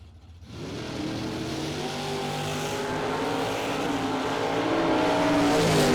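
A Class C dragster at a drag strip fires up and builds into a loud, rising engine roar that swells steadily, with no talk.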